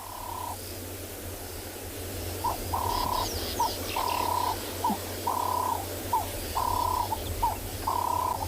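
Doves at sunset in the Tswalu reserve give soft, repeated hooting coos in a steady rhythm, each call a short pair of notes at moderate distance over a quiet, low outdoor hum.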